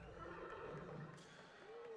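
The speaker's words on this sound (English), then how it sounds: "we hear the horse chime from the Mustang PA" A horse neigh sound effect rings out over a football stadium's public address system, a faint whinny in the distance against the steady murmur of the crowd.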